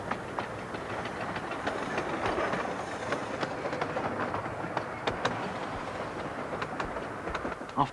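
A 2-foot narrow gauge Darjeeling mountain train rolls steadily along its tracks, a continuous rumbling roar broken by sharp clicks and clacks from the wheels.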